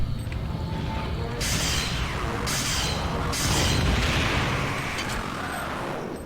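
Explosions in the video game System Shock 2: a few loud, sharp blasts land in quick succession over a rumbling roar, with no talking.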